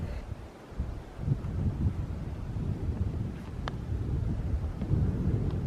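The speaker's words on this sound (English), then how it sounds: "It's a little windier out here." Steady outdoor wind buffeting the microphone on a golf course at Portstewart, a low continuous rumble throughout with gusts swelling louder toward the end.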